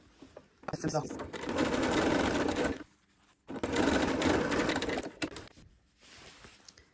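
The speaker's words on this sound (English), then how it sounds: "Now we have the two pieces seamed together." A sewing machine runs in two steady bursts of about two seconds each, seaming fabric pieces for a Christmas tree skirt, with short quiet pauses and faint handling noises around them.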